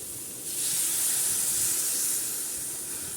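Water hits a hot pan of frying papaya and soybean baby food, bursting into a loud sustained steam hiss that swells after half a second and slowly fades.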